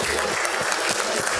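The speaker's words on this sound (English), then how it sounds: "So give yourselves a round of applause." Brief applause from guests at a conference VIP dinner, a dense, steady clapping wash lasting about a second and a half at moderate loudness.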